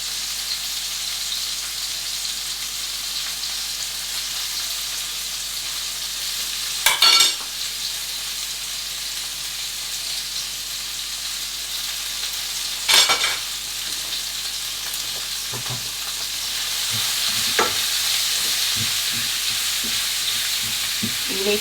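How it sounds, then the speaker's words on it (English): Garlic and leeks sautéing in a pot for a one-pot cider chicken casserole, a soft steady sizzle over a long stretch, with a few sharp scrapes and clatters from stirring. "You need to cook the garlic and your leeks for 3 to 4 minutes until they just start softening."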